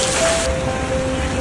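Rain falls steadily outdoors during a hike to Mangta Falls in Benguet, a dense, even hiss that stays close and continuous, with faint tonal hums in the background and no voices.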